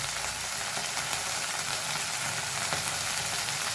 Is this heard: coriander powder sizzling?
yes